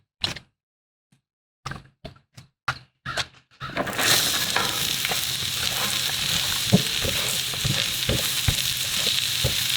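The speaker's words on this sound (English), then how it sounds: "We're just gonna caramelize these up a little bit until they get translucent" Sweet white onions dropped onto a Blackstone griddle with a few separate thunks and taps, then a loud, continuous close sizzle as they start frying, with occasional scrapes.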